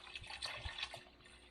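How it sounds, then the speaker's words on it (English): Filtered water is poured into the water reservoir of a Philips LatteGo coffee machine, a steady soft splashing trickle heard close up. "Right now is a great time to go ahead and add additional water to the water reservoir."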